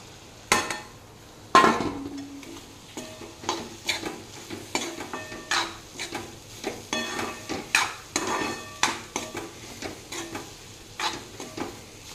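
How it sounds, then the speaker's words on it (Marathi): Grated bamboo shoot stirred into a pan already holding turmeric, salt and chilli powder, making a run of close, irregular scraping stirs with a few sharper clinks of spoon on metal, no voices. "यामध्ये मी आता हा वास्त्याचा किस घालत आहे."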